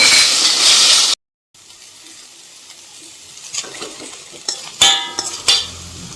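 Chopped tomato dropped into a hot pan for a South Indian-style pasta, giving a steady sizzle with a brief silent gap, then rising frying crackle and a few sharp utensil scrapes and clinks.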